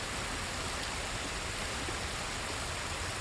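A waterfall in Ghost of Tsushima gives a steady, even rush of falling water, constant and broadband, heard alone at moderate level with no voices.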